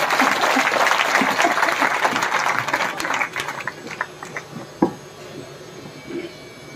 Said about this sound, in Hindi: जोरदार तालियां बजा कर दो।